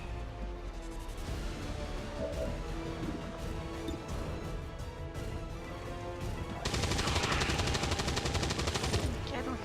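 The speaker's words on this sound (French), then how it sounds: "On tire à la position." Gunfire rattles through a battle in the video game XCOM 2: War of the Chosen, a dense burst of shots over game sounds that swells louder near the end.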